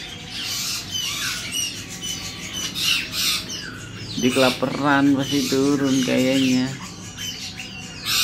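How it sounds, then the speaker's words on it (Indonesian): A silver-cheeked tepus bird squawks repeatedly in harsh, rapid bursts, loud and close, with a person speaking briefly over it. "Nah, lincah banget lagi tuh burung"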